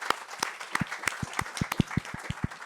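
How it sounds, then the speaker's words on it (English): An audience at a law symposium gives panelists a round of applause, steady dense clapping from many hands filling the room, with a few individual claps standing out nearby. "please give them another round of applause"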